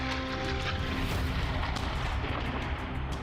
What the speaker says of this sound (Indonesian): Rekaman di lapangan menunjukkan ledakan dahsyat yang disertai kepulan asap tebal